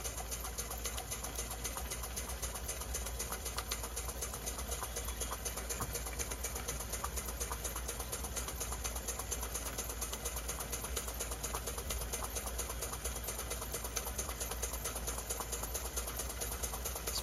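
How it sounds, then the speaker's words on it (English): A small AliExpress generator driven by a steam engine runs under electrical load, giving a continuous, even mechanical whir with rapid ticking texture, steady and close with no talk over it. "Oh wow, that really put a load on the generator."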